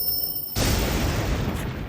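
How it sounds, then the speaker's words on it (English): In a video game, a sudden loud crackling lightning attack cuts in after a quiet moment, then a dense roaring rumble sustains like a heavy electric strike with rain-like hiss in a rainy bog. "The sound of Blight's lightning attack rips through the rainy bog"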